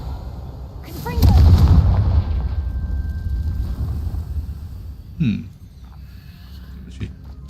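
A Confringo blasting spell detonates in Hogwarts Legacy: a loud, booming explosion that swells and rumbles for a couple of seconds before fading, with a sharper second crack a few seconds later, and no speech.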